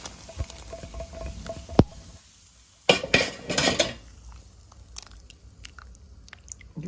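A spoon scrapes and clinks against a pot while stirring a pea mixture for Tetovo-style baked beans, with a few sharp metallic knocks and bursts of scraping between quiet gaps, close and moderately loud.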